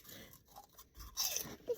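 A child crunches a crunchy snack inside a car, with soft bursts of chewing and a brief louder crackle toward the end, close and fairly quiet.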